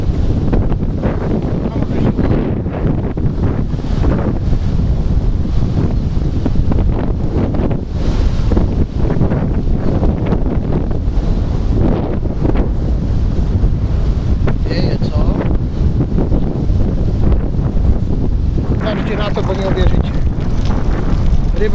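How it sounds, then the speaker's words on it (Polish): Heavy wind buffets the microphone in a constant loud rumbling roar, with gusts rising and falling and brief voices faintly underneath. "Wiatr strasznie denerwuje."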